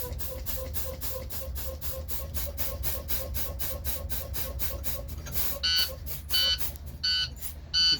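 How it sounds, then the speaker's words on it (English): A school bus low air pressure warning buzzer sounds during a brake test, a steady rapid pulsing tone repeating throughout, with louder separate beeps near the end over engine rumble. "The buzzer came on, and the wigwag dropped."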